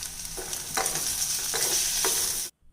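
Close-up sizzling in a hot pan as brinjal is stirred with turmeric and chili powder, with a few scraping strokes of a spatula over the constant frying hiss.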